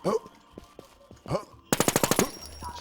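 Rapid automatic gunfire from the Warz online shooter game, a burst of about eight sharp close shots in quick rhythm, preceded by scattered single shots and game sounds with players talking over voice chat.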